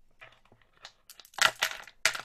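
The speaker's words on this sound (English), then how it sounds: "So I'm going to put the lentils in. I think I'll put a few bits of pasta in as well." Dry lentils and pasta pieces poured into a homemade ocean drum, scattered rattling and crunchy pattering that builds into louder bursts near the end.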